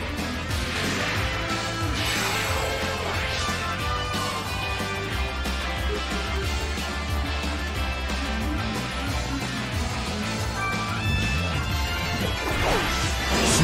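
An attack lands in the Pokémon Battle Revolution video game, a loud crashing impact layered over dense game music and effects that stay busy throughout.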